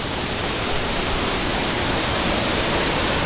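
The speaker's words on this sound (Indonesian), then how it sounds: "Jadi air terjunnya kembar ya." A twin waterfall near the Salopuru bridge roars as a loud, steady, broadband rush of falling water with no other sounds.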